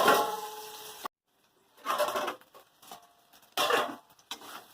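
A spatula scrapes and stirs bethua (bathua) greens with mixed vegetables in a pan, heard as three separate bursts of scraping and clattering with quiet gaps between them.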